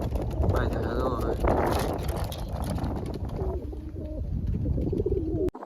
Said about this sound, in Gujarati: તો બાકી અત્યારે જંગલી કબૂતર આવી જશે